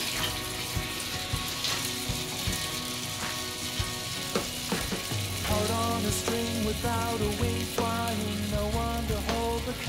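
Falafel sizzles and crackles in hot oil, a steady dense frying hiss with scattered pops and occasional clinks of a utensil, close and fairly loud throughout, with no talking.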